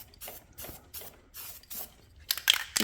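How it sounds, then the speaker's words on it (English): Paint spray gun test-firing for stencil painting, several short, soft hissing bursts at even intervals, followed by a few louder, sharper sprays near the end. "So let me do a test of the spray,"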